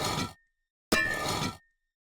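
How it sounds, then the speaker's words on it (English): In Minecraft, an axe scrapes oxidization off a copper block in two bursts, a short scratchy rasp and then a longer bright metallic scrape, each stopping cleanly into silence. "and scraping off oxidization with an axe."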